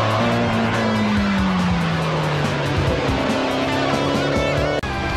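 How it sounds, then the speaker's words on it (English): A Nissan GT-R rally car's engine revs loudly and continuously on a skid pan with tires squealing and skidding, a sustained high-revving drone throughout, ending with a brief sharp break. "In car 21, a Nissan GTR, rookie Dean Grant was leading the drivers"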